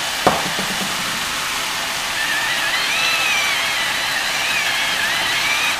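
Ground beef browning in a frying pan for homemade lasagne gives off a steady, continuous sizzle and crackle. A brief utensil knock comes near the start, then the frying holds an even level with no talk.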